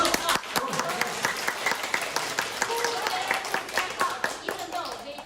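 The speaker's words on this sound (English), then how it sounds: "So let's give them a warm applause." An audience at a Toastmasters evaluation contest workshop in Xi'an, China claps warmly. Dense, steady hand claps run throughout the whole stretch at a fairly even level, with no talk over them.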